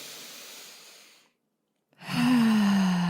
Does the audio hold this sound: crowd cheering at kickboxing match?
no